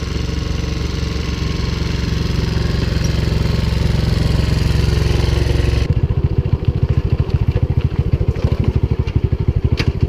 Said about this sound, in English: I hope that my engine will start.